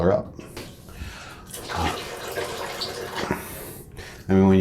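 A bucket is filled with water during a toilet wax ring replacement, a steady rushing pour running under intermittent talk, ending with a louder, fuller burst of flow.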